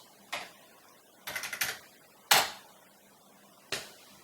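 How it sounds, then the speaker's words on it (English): Keys clack on a Commodore computer keyboard while a SYS command is entered: a few sharp, separate strokes and a short quick cluster, close and distinct against a quiet background with no talking. "I type in the sys command where it lives."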